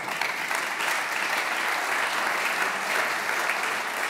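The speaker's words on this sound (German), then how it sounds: "Applaus" A large audience at a formal state ceremony marking 100 years of the Free State of Bavaria applauds steadily, an even wash of clapping from a full hall that holds throughout.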